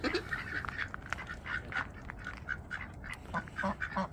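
Ten-week-old black Muscovy ducklings make a run of short, soft peeping quacks in an irregular rhythm, close by outdoors over low background noise.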